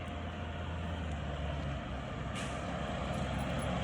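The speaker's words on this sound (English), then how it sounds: "Oh, fire truck's coming." A fire truck rolls past on the street, a heavy truck engine rumbling steadily with a hiss like air brakes partway through, moderately loud and without voices.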